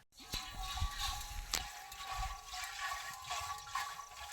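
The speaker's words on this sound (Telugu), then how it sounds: "ఏం సౌండ్ అది? Water sound." Water sloshes and gurgles inside an LPG gas cylinder that has been filled with water instead of gas, a continuous close rushing slosh with a few knocks as the cylinder is moved.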